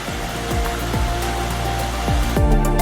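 Rushing water of a mountain stream on the Pen y Fan Horseshoe walk in the Brecon Beacons, a steady close broadband roar with no voices, footsteps faintly tapping through it.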